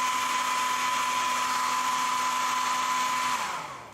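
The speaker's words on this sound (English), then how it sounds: "keep breaking out the old hair dryer" A hair dryer blows on fresh paint, a loud steady whine and airy rush held for several seconds close by, then winding down as it switches off.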